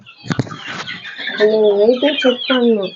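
A mother hen and chick clucking close by, a burst of short clucks followed by a longer, tonal series of calls.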